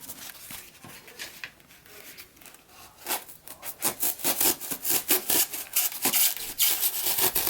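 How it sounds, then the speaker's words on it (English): A hacksaw blade cuts through a cured, solid spray-foam skull, starting with quiet scraping and building into steady, fast, rasping back-and-forth strokes that grow louder and closer. "hacksaw blade and just trim the parts that you don't want. So I'm going to trim this here."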